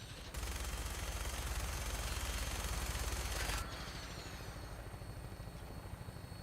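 Vertibird aircraft in the video game Fallout 4, a loud steady rotor-and-engine roar carrying on throughout, briefly heavier at first, with a rattle of gunfire mixed into the drone.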